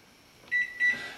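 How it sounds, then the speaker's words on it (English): A microwave oven set to full power gives two short electronic beeps, close and clear, over a faint steady hum. "Place your microwave on full power"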